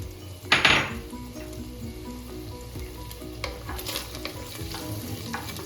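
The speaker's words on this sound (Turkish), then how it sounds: "Tereyağımız eriyene kadar etimiz şöyle bir çevireceksin." Meat is stirred and fried in olive oil and butter in a pan, with a bright sizzle that flares loudly near the start, then steady crackling alongside the scrape and clink of a utensil against the pan.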